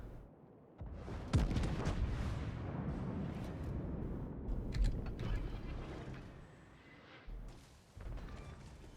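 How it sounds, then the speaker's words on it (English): Broadside gunfire from a Fuso battleship in World of Warships: heavy booming salvos with rumbling low-end and mechanical creaks. A few loud blasts stand out above a continuous roar of battle noise. "shut up and take my broadside"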